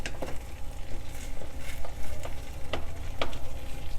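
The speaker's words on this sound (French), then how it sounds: "quand l'omelette commence à prendre, on rabat légèrement les bords pour éviter qu'elle ne colle à la poêle" A Spanish tortilla sizzles steadily in a frying pan, a continuous close crackle and hiss broken by a few sharp taps and scrapes of a utensil against the pan.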